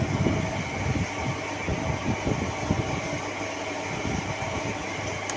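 A sewing machine runs steadily as it stitches fabric frills for a small doll outfit, giving a close, continuous rattling whir with fast rhythmic thumping underneath and no speech.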